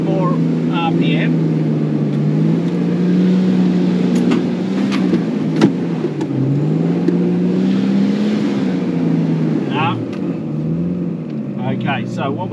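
A 4x4 engine revs while climbing a steep hill, a loud low drone that surges and dips in pitch, with wind buffeting the microphone and a person talking over it.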